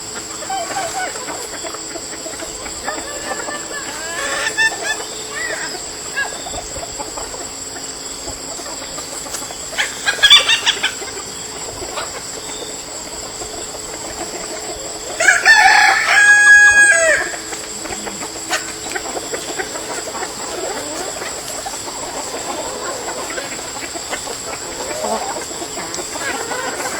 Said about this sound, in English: I'm going to try and get these chickens too